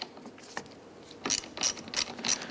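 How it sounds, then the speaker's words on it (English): A ratchet with a 13mm socket clicks in several short, crisp bursts while loosening a battery terminal on a 1993-1997 Ford Ranger, close and clear with nothing else over it. "Use our 13mm socket."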